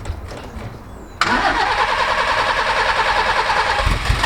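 An old Land Rover engine in a rusty restoration project cranks briefly and catches, then runs at a steady, loud idle close by with no talk.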